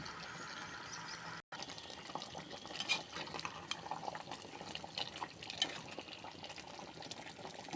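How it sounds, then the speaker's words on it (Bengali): Water is poured into a pan of cooking chicken and fried potatoes, a quiet continuous splashing and sizzling wash with small clicks, after a brief cut near the start and no talking. "আমি এখন পানি দিয়ে দিলাম"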